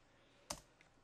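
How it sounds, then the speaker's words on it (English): A single soft keystroke on a computer keyboard, faint and close, followed by a lighter click in a quiet room. "I'm just gonna type my name"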